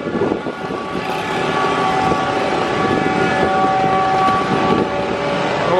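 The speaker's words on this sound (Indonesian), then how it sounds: "Mantap klaksonnya. Kencang banget." A loud, sustained horn from a train passing a spot in the Bandung area blares steadily for several seconds over a rushing rumble of rail noise.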